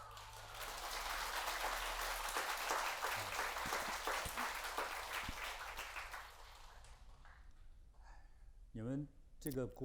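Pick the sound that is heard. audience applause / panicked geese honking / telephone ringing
audience applause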